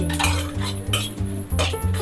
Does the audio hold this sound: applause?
no